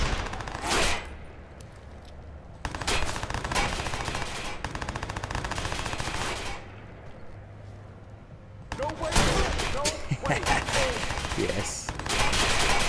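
Gunfire in the Watch Dogs video game, several loud sustained bursts of shooting separated by quieter gaps, with voices talking in between.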